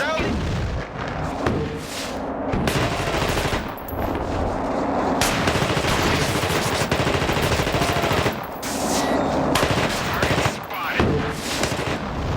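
Gunfire and grenade launcher shots in The Thing video game: dense, loud automatic fire with heavy booms in sustained bursts, broken by brief pauses, with a voice talking over the shooting.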